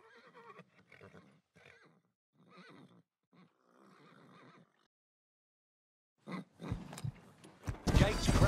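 A horse neighs and whinnies loudly in a Phar Lap horse racing video game at the start line of a race at Queen Victoria Park, preceded by a commentator's voice calling the field.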